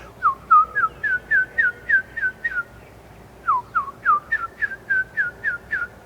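A person whistles a steady series of short rising notes imitating a turkey's call, two runs of about eight to ten notes separated by a brief pause, clear and close.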